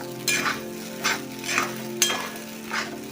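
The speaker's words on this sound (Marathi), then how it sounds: "झाकण उघडायचं आणि ते व्यवस्थित सर्व हलवून घ्यायचं" Soaked sabudana is stirred in a hot covered pan, with four or five scraping strokes of a spoon in a slow rhythm over a soft sizzle.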